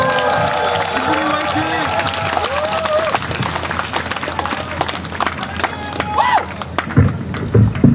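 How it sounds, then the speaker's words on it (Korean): A rally crowd protesting a naval base gives a speaker warm, dense applause that keeps going for several seconds, with voices talking over the clapping. "뜨거운 박수 부탁드리겠습니다"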